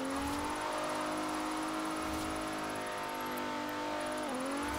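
A low-budget drift car in Forza Horizon 4 revs its engine in a steady, slowly climbing whine with layered harmonics, then briefly dips and recovers near the end. It is continuous, close and fairly loud, and no voices are heard.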